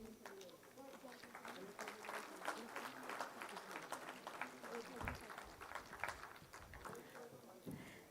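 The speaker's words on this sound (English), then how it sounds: "a big round of applause as we begin the proceedings for the day by welcoming our esteemed dignitaries" Audience applause at the National Highways Excellence Awards 2023 at Bharat Mandapam, welcoming dignitaries: steady, dense clapping from a large crowd sustained throughout, with a faint voice and background chatter underneath.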